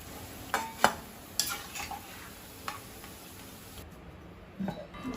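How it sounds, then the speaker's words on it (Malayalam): Deep-fried onions for chicken 65 biryani are lifted out of hot oil with a metal scoop, giving a faint sizzle under a few sharp ladle clicks and scrapes against the pan, quiet and close. "നമ്മുടെ ഉള്ളി മൂത്ത് വന്നിട്ടുണ്ട് നമുക്ക് കോരി എടുക്കാം"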